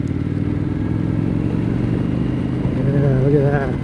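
An Indian Super Scout motorcycle engine drones steadily while riding in second gear on a winding road, a loud, continuous rumble with a rising rev near the end, with wind noise over it.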